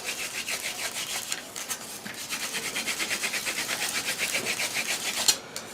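Sotol spindle spun between the hands on a sotol board for hand drill fire-making, producing quick rhythmic rubbing and scraping bursts in a steady alternating pattern, close and fairly loud, with no talking.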